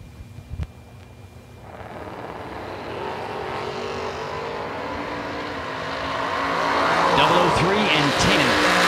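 Pickup trucks, including an S10 pickup, at a drag racing event, with a loud engine roar building steadily and swelling near the end, a brief knock at the start and a commentator's voice underneath.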